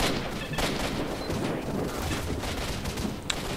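Dense, continuous gunfire in the shooter game S.T.A.L.K.E.R.: Shadow of Chernobyl, overlapping bursts and shots crackling steadily for several seconds, with one sharp crack standing out near the end.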